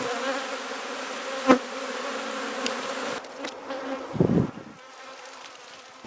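Honeybees buzz around beehives in a field with wild blackberries, a steady, close hum for the first half that thins out, with a brief louder buzz passing near the end.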